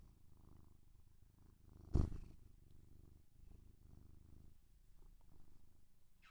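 Close, quiet purring from a cat, a low steady rumble with gentle rhythmic pulses, broken once early by a short bump.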